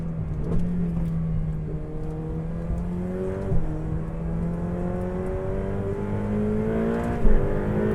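A Ferrari 488 Pista engine pulls hard under sustained acceleration, its rising tone climbing steadily through gears with brief shift breaks, loud and close with no talk.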